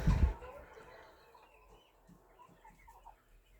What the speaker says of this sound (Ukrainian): Курочки.